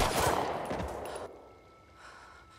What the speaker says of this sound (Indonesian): Di depan mata Stone, Parker tanpa alasan yang jelas menembak mati kedua rekannya